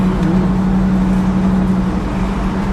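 A black 1958 Chevrolet Impala two-door hardtop with a continental kit cruises along, heard from inside as a steady, loud low engine and road drone with a constant hum and no break.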